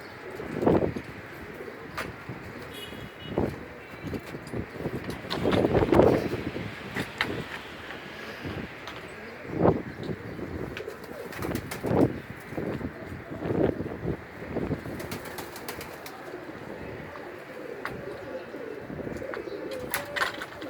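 Pigeons coo close by in low, rolling calls that come and go, over gusty wind buffeting the microphone, with faint voices in the background.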